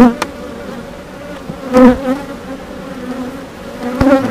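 A strong honeybee colony hums loudly through a hive inspection with an unmarked queen, a continuous layered buzz broken by a few close handling knocks and brief louder swells.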